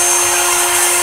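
A CNC milling machine cuts a hole in a small injection mold, peck-drilling down and up at a slow feed; a loud, steady high-pitched whine with a fixed tone holds for the whole moment, with no speech.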